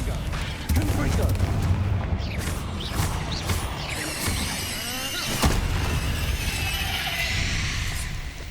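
Bombarda and Confringo spell blasts go off in Hogwarts Legacy, a series of sharp bursts and crackling booms with swirling magical sweeps in between, while a voice shouts the spell names over the action.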